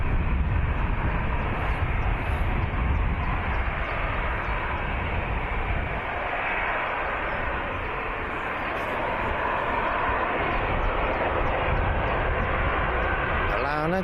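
A jet airliner taking off from Birmingham Airport bound for Dublin, its broad engine roar loud and steady throughout, rising and holding without a break.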